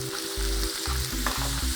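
Beef sizzling and crackling in a hot frying pan for a sandwich, a close, steady fry with rhythmic bursts as pieces are stirred or moved around, no voices.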